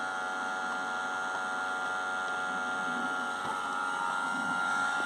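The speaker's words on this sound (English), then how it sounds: "We'd switch it on and we wait for some smoke to come out of the hose here." Smoke machine running during a diesel particulate filter smoke test, a steady faint electric hum and whir that holds constant throughout, with faint background noise and no clear talk.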